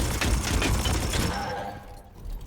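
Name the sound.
gunfire in the Warhammer 40,000: Chaos Gate video game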